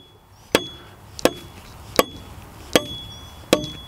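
Five sharp metallic hammer taps, evenly spaced about 0.75 seconds apart, driving a shank adapter out of the flushing housing of a rock drill; the blows are close and loud, and a steady faint tone sits underneath.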